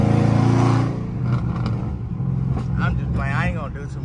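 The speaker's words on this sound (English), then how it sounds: "Now hit the gas and get out of there." A Dodge Scat Pack pulling away under hard throttle, a deep engine roar that swells and then eases, with voices talking over it from inside the car.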